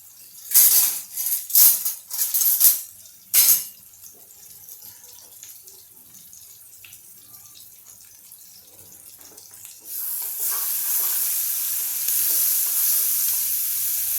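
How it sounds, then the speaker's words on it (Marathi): Gram flour roasting in ghee in a pan while cooking dhaba-style palak paneer: a few clattering stirs up front, then a steady, close sizzling hiss takes over. "आपण एकच चमचा बेसन आपण तुपात टाकणार आणि आता आपल्याला हे चांगलं व्यवस्थित अगदी भाजून घ्यायचं आहे"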